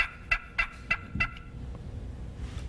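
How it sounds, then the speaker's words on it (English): A series of five sharp, evenly spaced turkey clucks from a handheld push-button turkey call, close and clear, with a quiet pause after. "you can start with a push button call"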